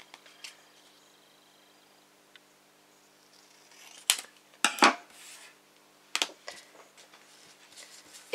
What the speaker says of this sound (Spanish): Lo corto yo con unas tijeras